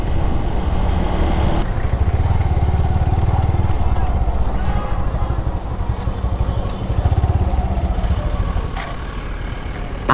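A motorcycle rides through rain on a wet road, its engine drone and a steady wash of tyre spray and wind roaring close and loud throughout.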